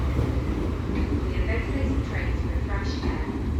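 A train runs through Eastleigh station on the South Western Main Line, giving a continuous low rumble with squealing wheel and rail tones over it, heard from the platform close by.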